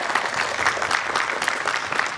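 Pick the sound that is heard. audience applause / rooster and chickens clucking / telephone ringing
audience applause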